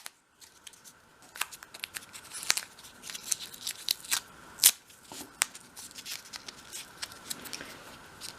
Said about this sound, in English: fold it around, again being really careful, and then I wrap that around with masking tape